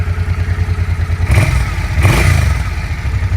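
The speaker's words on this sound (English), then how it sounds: "Fuel injected V-twin, runs very good." A fuel-injected V-twin on a 2011 Suzuki C50T Boulevard cruiser runs with a steady, lumpy idle pulse, close by, with two brief louder revs or clattering bursts partway through.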